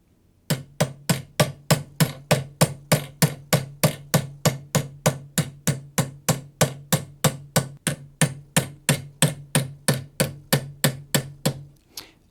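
A metal hair pin is hammered with anticlastic raising techniques: about thirty sharp, evenly paced strikes ring out close and loud in a steady rhythm, with no talking.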